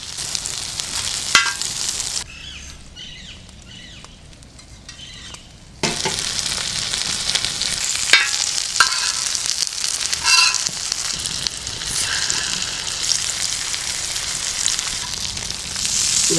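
Seer fish pieces frying in a little oil in a pan in a village kitchen, a steady close sizzle with occasional stirring clinks, briefly dropping quieter midway before the hiss returns at full strength.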